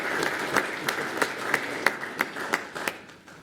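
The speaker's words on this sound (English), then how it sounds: "Let's give them a round of applause." Applause from a city council meeting audience for a group of freshmen, fairly quiet with distinct individual claps standing out in a loose rhythm against a soft background of clapping.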